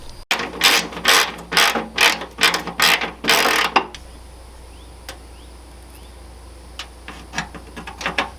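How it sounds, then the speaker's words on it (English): A ratchet undoing a bolt on a 1999–2004 New Edge Mustang makes a rapid burst of loud clicking strokes, then quieter intermittent clicks after a pause. "I'm going to undo that bolt, put this through, and it should be fine"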